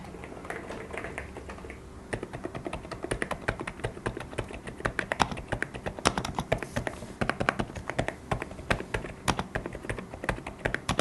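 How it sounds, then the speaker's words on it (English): Rapid typing on an Epomaker RT100 keyboard with Sea Salt Silent switches, soft muted key taps in quick uneven bursts, close and clear, with no talking. "The tactile typing experience is quite satisfying for me."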